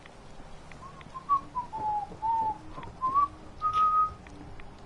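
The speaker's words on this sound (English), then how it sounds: "I can't whistle very well." A person makes an unsteady attempt at whistling, a string of short, thin, wavering notes at varied pitches with gaps between them, faint and close with no talk.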